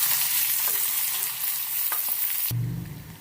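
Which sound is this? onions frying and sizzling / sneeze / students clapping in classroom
onions frying and sizzling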